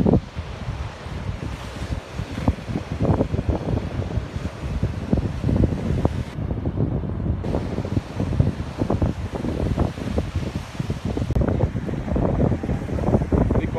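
Sea waves break and wash steadily against an old stone fort on Vattakottai beach near Kanyakumari, a continuous rough surf roar with wind buffeting the microphone, heard alone with no talk.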